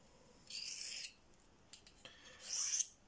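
Knife blade drawn across a Victorinox pocket sharpener, two distinct raspy scraping strokes about two seconds apart, close and fairly quiet, with faint handling clicks between them.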